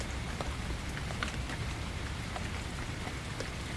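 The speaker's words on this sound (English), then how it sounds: "The rain intensifies just slightly, the rhythmic plinking becoming a more continuous sound." Rain falls steadily through a forest, a dense, continuous patter with scattered sharper drops striking leaves and ground at an even level throughout.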